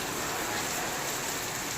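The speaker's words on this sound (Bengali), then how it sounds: "অ্যাকচুয়ালি এটা বৃষ্টি না, এটা হাওয়ার দাপট।" Strong storm wind drives heavy rain in a continuous, dense hissing roar, close and unbroken throughout.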